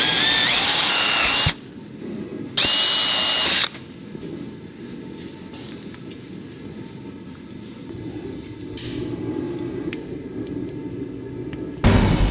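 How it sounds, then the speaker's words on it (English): A power drill bores through a wooden shovel handle in two loud bursts near the start. A lower, steadier workshop rumble follows, and a brief burst comes at the very end. No one speaks. "And with that tight fit, I'm then gonna drill through here."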